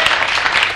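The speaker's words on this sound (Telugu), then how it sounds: "చప్పట్లు కొట్టండి" A studio audience claps together through a brief, dense burst of steady applause at a Telugu television show taping, loud and even with no pauses.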